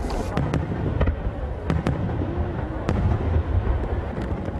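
Fireworks bursting at a summer fireworks display in Japan, sharp cracks at irregular intervals over a continuous rumbling wash of distant explosions.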